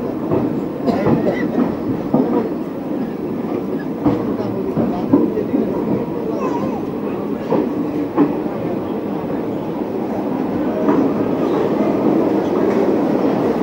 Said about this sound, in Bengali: ঠিক 11টায় এখন আমাদের ট্রেন ছেড়ে গেছে আগরতলা থেকে